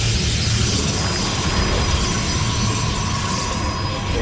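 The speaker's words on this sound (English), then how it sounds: "Incoming train. Do whatever it takes to derail it." A train passes in a StarCraft 2 co-op mission, with steady rumbling wheel noise and faint squeals that stay loud and even throughout, without speech.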